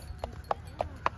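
A horse being ridden clip-clops at a steady walking pace: four distinct hoof strikes, fairly faint against low background noise.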